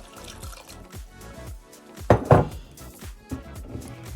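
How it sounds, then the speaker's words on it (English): Water splashes and trickles into a container while mixing a homemade leave-in conditioner, in uneven gurgling bursts, growing louder midway, then settling into lighter drips. "I'm going to put some more water"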